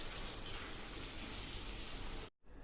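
Vegetables hiss in a hot pan while being stirred, a continuous soft sizzle that cuts off abruptly near the end.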